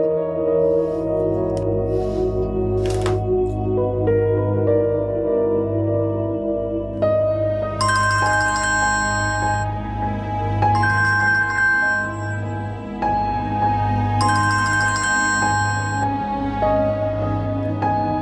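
A phone ringtone for an incoming call plays on, a steady repeating electronic melody with bright high chime notes, loud and close, with no voices over it.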